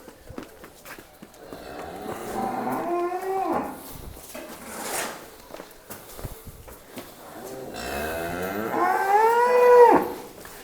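A buffalo for sale in Jod Singh Wala village, Tarn Taran, lets out two long, low moos a few seconds apart, fairly close, with shuffling and hoof sounds around them.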